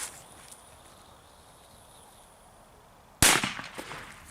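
An Explosive 3 firecracker from a Slovak pyrotechnics set goes off outdoors with a single sudden loud bang, followed by a brief crackling tail after a few seconds of quiet ambience.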